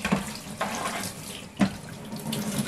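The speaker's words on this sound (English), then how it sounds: "I'll just give it a bit of a rinse off to get the rest of the horrible fluff and crap off." Tap water running over Amiga 500 keyboard parts in a sink, a steady splashing stream with a few sharper spatters as the parts are moved under the flow, close and alone.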